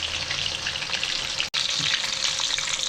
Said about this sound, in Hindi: ये फ़िश दूसरी दफ़ा फ्राई करने में 4 से 5 मिनट मीडियम हीट के ऊपर फ्राई हो चुकी है।